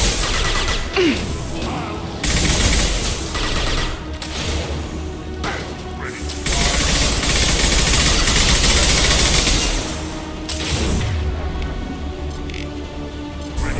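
Sustained squad gunfire in the Mass Effect 2 Legendary Edition video game, loud bursts of rapid shots and crashing impacts that come in waves over about fourteen seconds, with a brief voice under the din.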